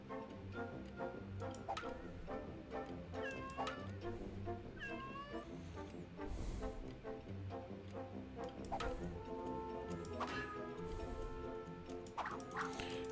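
Cartoonish cat meows recur over busy video game music and sound effects, mixed with a few yappy dog-like yelps, loud and steady throughout.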